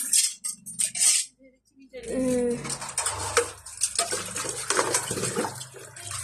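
Freshly washed dishes and pots are handled and stacked, clanking and clattering with running water and splashing, close by, while voices talk over part of it.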